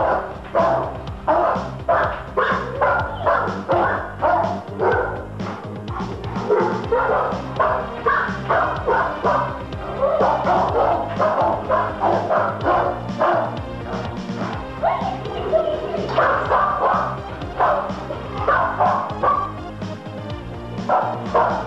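A Perro de Presa Canario barks repeatedly in a fast, steady rhythm, loud and close, with the barking running throughout the clip.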